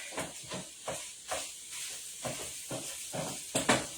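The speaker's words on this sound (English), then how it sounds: "Alright, so I'm going to put the rest of my garlic in there. Alright, give it a quick stir." Garlic being stirred into a hot pan of rice, onions and sausage, with a steady hiss of sizzling broken by a series of scraping stir strokes about every half second, close and moderately loud.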